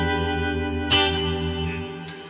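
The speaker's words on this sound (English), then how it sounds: "On this way, the reverb's a lot more present, and the other way, the tremolo's much more present." A Strymon Flint guitar pedal blends reverb and tremolo on a sustained, shimmering guitar chord that pulses and rings out, with a fresh strum near the start and another near the end, no talking.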